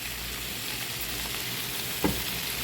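A continuous close sizzle of potatoes and beans frying in a pan, with a brief clink of a utensil near the end.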